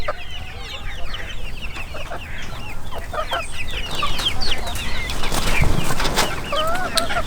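Several chickens cluck and chatter close by, with roosters and hens overlapping in a busy, continuous farmyard chorus.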